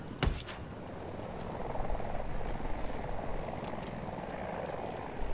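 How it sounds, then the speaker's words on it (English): A helicopter in the shooter Battlefield 2042 passes close by, its rotor and engine roar forming a steady, loud wash throughout, with a brief sharp burst near the start. "Oh shit, a chopper next to me."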